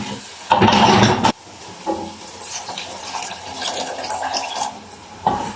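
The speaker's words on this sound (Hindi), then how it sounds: "अब इसमें थोड़ा सा पानी डाल के इसको दम पे लगा देंगे।" Water splashes into a pan of frying white lentils (daal mash) in one loud gush lasting under a second, followed by lower sizzling and bubbling, then a brief clatter near the end.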